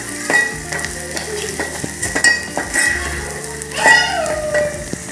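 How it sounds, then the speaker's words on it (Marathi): A spice mixture with red chili powder and coriander powder is stirred and sautéed in a pan, with close, loud sizzling and repeated scraping and clinking of a spoon against the pan, while a voice speaks briefly. "हे सगळं मिश्रण आपण व्यवस्थित छान परतून घेणार आहोत"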